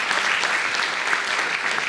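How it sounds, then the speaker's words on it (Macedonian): An audience at an event on AI and careers gives a team a warm round of applause, dense continuous clapping from many people held at an even, fairly loud level for the whole stretch. "уште еднаш ве молам аплауз за тимот кој работеше на универзум"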